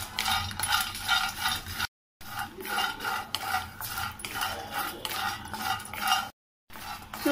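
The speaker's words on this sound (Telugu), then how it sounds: "చూడండి, ఈ వేరుశనగ పప్పు 2 మిరపకాయలు వేగినాయి" Peanuts and dried red chillies roast in a hot, dry pan, rattling and scraping in repeated rhythmic bursts as they are tossed and stirred, close by, with a couple of brief silent breaks.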